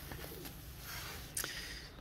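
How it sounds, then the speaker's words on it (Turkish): Pigeons heard faintly in a quiet space, a soft low coo under low background noise with a brief brighter chirp near the middle. "Güvercinlere bir bakalım."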